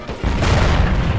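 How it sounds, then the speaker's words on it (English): A heavy, sustained boom of artillery fire in an Italo-Ethiopian War 1935 battle game, loud and close, rolling on for over a second without voices. "There's the artillery right there."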